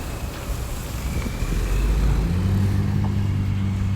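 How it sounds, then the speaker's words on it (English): A Copa Airlines jet takes off from an airport, its engines a loud, steady low rumble and roar that builds and holds, heard from a distance outdoors. "That's a Copa airline taking off."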